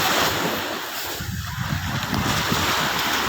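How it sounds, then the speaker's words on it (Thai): Ocean waves at a beach in Rayong, Thailand, give a steady broadband wash of surf with wind noise on the microphone, loud and continuous without clear breaks. "มาเล่นน้ำทะเลที่ระยอง"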